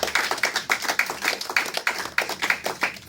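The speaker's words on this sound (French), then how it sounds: "Acclamez très fort pour la gloire du Seigneur." Church congregation clapping in rhythm during a Sunday worship service, steady rhythmic hand claps with a regular beat, fairly close and continuous, with no talk over them.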